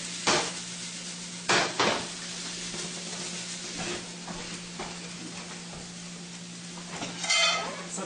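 Ingredients for steak fried rice sizzle in a skillet while a utensil stirs and scrapes, with several sharp clinks and scrapes of metal against the pan over a continuous frying hiss and a low steady hum.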